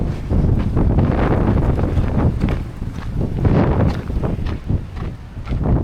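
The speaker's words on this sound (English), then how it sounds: "I'm hoping for a bit of respite from the wind, which is cold, noisy, and is being right in my face" Cold wind blasts across the Seven Sisters cliffs on the South Downs, a loud continuous roar buffeting the microphone in gusts, with faint footsteps beneath.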